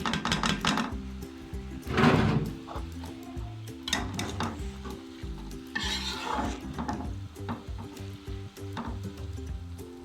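Boiled rice for sweet zarda is tipped into a pot and stirred, producing sizzling and scraping with irregular clinks and knocks of a spoon against the metal pot, moderately loud and close.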